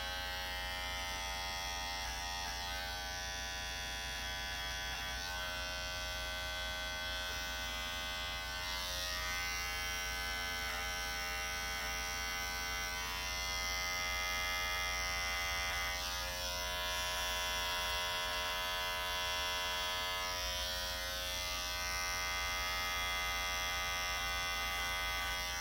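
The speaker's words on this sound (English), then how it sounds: "now it's just a regular trimmer and trim around the ears" An electric hair trimmer runs continuously with a steady, loud, close buzz as it trims around the ears, its tone shifting slightly as it moves against hair.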